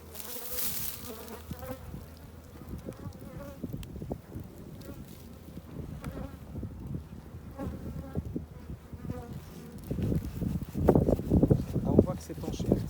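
Honeybees buzz steadily around an open Dadant hive being split, some climbing into a feeder. The dense, close swarm drone grows louder toward the end while a person talks over it.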